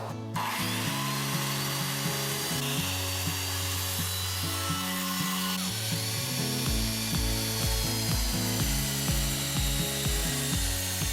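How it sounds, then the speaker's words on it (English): Steady, rhythmic hand-sawing through a piece of wood, trimming its edges, with the rasping strokes repeating back and forth for several seconds at close range and no voices. "cutting off the edges of this piece of wood"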